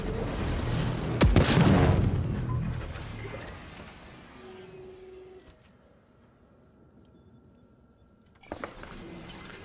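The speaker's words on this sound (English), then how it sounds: "recycler grenade thrown" Recycler grenade in the game Prey: a loud whooshing burst near the start that fades into a descending whine, a quiet stretch with a faint tone, then a sharp crackle near the end.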